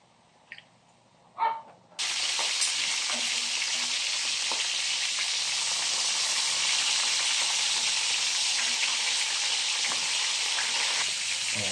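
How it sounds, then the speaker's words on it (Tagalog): Jumbo chicken garlic longganisa dropped into hot oil in a pan after its water has reduced: a couple of quiet taps, then a sudden loud, steady, dense sizzle that holds at full strength, with faint crackles throughout. "Pa-fry na natin. Lagyan natin ng oil."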